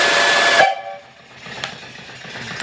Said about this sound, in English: I'll blow the whistle here.